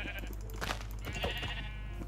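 A Minecraft sheep bleats in a short, wavering cry over steady low game background noise, with a second fainter bleat following.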